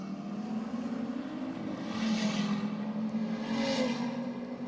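An Audi RS3 and another car race past at a car show, engines droning at a distance with a steady tone that swells twice as they pass, no talk.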